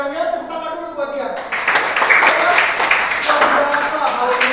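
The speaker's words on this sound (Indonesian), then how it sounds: "tepuk tangan dulu buat dia." Children at a church holiday Bible camp opening service clap their hands together, a busy, fairly loud patter that swells after a moment and keeps going. Voices and some background sound mix in.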